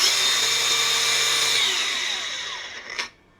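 DongCheng DCSM08-125 5-inch cordless angle grinder whining at speed, then spinning down after being switched off, with a short click and a faint restart at the end; close and loud, no talk.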